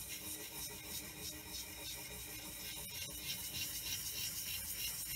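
Cast iron straightedge rubbed back and forth on a sharpening stone to remove burrs, giving a steady, continuous gritty scraping close by with no pauses and no talk.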